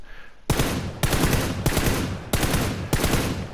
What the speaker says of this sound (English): I am burst firing